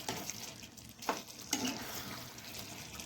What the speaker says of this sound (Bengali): আমি সুন্দরভাবে নেড়ে দেব, যাতে দুই পাশ সুন্দরভাবে সিদ্ধ হয়ে যায়।